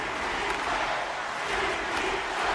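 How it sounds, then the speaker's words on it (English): Arena crowd noise in a hockey video game, a dense, steady roar of cheering spectators filling the whole stretch at moderate loudness, with no distinct voices on top. "the whole crowd is loving this"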